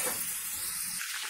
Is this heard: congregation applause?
no